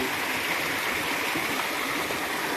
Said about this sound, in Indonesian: Akhirnya kita menemukan sungai, guys. Sungainya bersih sekali,